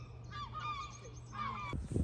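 Seagulls call loudly at close range in Denbigh, Wales, two drawn-out wailing cries in a row followed by a rustling knock at the end, with a low hum behind.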